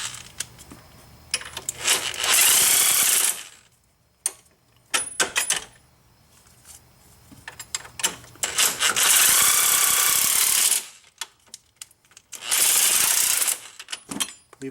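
A wrench works the strut bolts on a 2005 Chrysler Town & Country during front strut replacement, producing repeated bursts of harsh metallic ratcheting and scraping, close and loud, separated by quiet gaps with small clinks.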